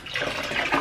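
Warm water splashes and trickles for hand-washing clothes at a makeshift wash station during a power and water outage, a soft close swishing and pouring with no voices.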